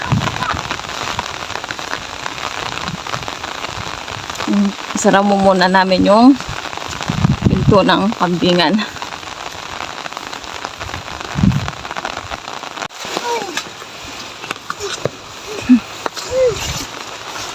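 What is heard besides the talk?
rain falling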